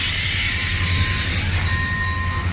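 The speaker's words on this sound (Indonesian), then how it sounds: "Nah ternyata yang lewat adalah kereta Metrans." A Metrans container freight train rolls past in Europe with a loud, steady rumble of wagons and a faint, thin metallic whine from the wheels throughout.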